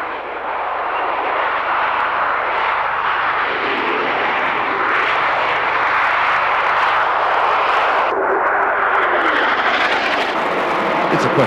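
A Harrier jump jet flies at the 1997 Mildenhall Air Fete, its engine a loud, continuous roar that holds steady and shifts slightly in pitch as it passes.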